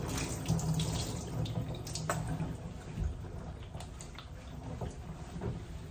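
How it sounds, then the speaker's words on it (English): Water sprays steadily from a hose held down to the skin while bathing a Pomeranian, with a constant hissing rush, close and continuous, with a few faint knocks and bumps. "I sink my hose right down to the skin and allow the water to push from the skin out."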